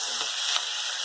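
Tomatoes dropped into a pan of hot oil with cumin, dried chili and bay leaf make a loud, constant, close-up sizzle throughout, with a faint stir partway through.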